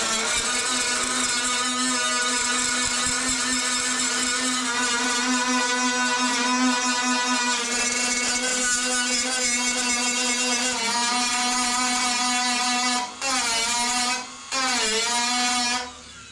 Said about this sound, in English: grind that down most of the way, and then we can finish it off with the sanding disc